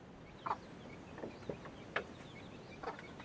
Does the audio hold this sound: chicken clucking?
yes